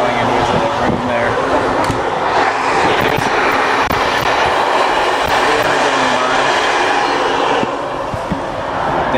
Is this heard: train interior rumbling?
yes